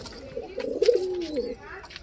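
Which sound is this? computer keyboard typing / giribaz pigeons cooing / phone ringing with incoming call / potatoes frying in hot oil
giribaz pigeons cooing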